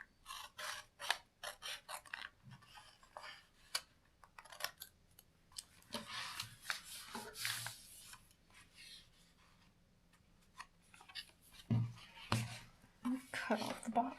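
Paper being cut with scissors for a junk journal, a run of crisp snipping and rasping strokes in uneven bursts, close and moderately loud, with light rustling between cuts and a few louder snips near the end.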